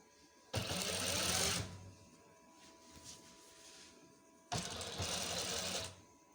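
A sewing machine stitching frock panels together runs in two loud bursts of about a second each, separated by a quieter pause with faint handling noise.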